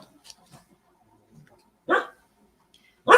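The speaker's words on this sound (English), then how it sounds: "No barking right now." A house dog barks twice, sharp and close, alert to someone at the door, in an otherwise quiet room with faint soft voices between the barks.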